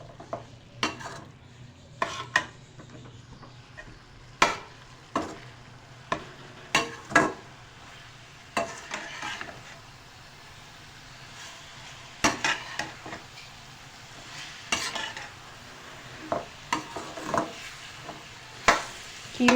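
Coarsely hand-chopped beef keema in a pan with turmeric, ground coriander and red chilli, stirred with sharp intermittent scrapes and knocks of a spoon over a low, quiet sizzle.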